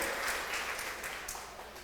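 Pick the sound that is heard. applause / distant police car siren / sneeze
applause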